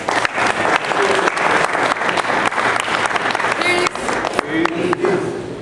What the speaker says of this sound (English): we need to give her another round of applause as she comes out.